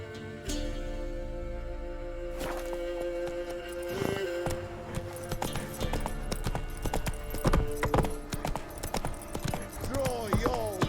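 Roach the horse galloping in The Witcher 3, rapid hoof clip-clops mixed with game music and effects, loud and close, with a voice speaking partway through.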